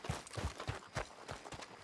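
Horse hooves clip-clop in Red Dead Redemption 2, a quick, faint, even series of about seven hoof strikes at walking pace.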